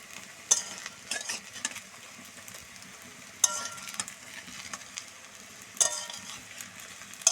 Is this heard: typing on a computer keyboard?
no